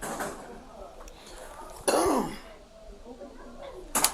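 A single cough bursts out near the two-second mark amid a quiet room, with faint rustling and a short sharp noise at the end; no speech is heard.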